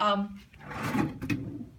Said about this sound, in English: A chest of drawers with deep drawers.